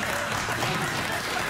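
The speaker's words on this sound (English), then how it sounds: "What are you clapping for?" Studio audience applause on a late-night talk show, a thick, loud, continuous wash of clapping filling the room for a brief moment.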